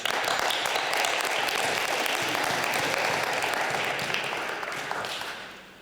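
An audience at an international school literacy celebration in northern Japan gives sustained, dense applause that holds strong for several seconds before tapering off at the end.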